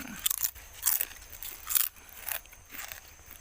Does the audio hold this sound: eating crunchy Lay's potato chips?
yes